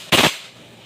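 An FMG9 folding airsoft gun fires in a single very short, sharp burst on automatic, loud and close, followed by quiet.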